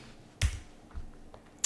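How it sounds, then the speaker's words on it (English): A few sharp, isolated key clicks on a computer keyboard, with a heavier tap near the start and two lighter presses later, in an otherwise quiet room. "And I'm going to finish the install by typing in a yes"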